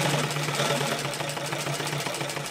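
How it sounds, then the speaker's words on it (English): Consew 229 post bed triple feed sewing machine running a back-stitch to finish a seam: a steady motor hum with rapid rhythmic needle clatter, close and continuous, with no talk. "now I'm going to sew back across those first two stitches I just made and finish my seam"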